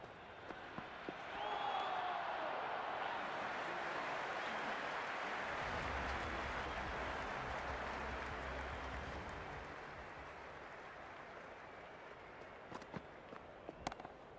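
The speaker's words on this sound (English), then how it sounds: "There's a buzz, a real buzz coming from the stands." A large stadium crowd at an IPL cricket match between CSK and MI keeps up a steady distant roar and buzz of applause, swelling and then easing off, with faint scattered claps near the end.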